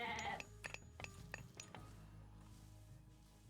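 Goats bleat in a strategy video game, a few short bleats up front followed by light clinks and scattered clicks over a soft background bed.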